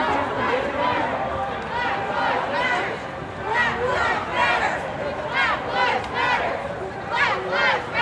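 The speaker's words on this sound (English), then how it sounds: "The crowd has grown significantly." Crowd noise at a Black Lives Matter protest gathering in Akron, Ohio, with overlapping voices, shouts and chatter close by and a busy outdoor hubbub throughout.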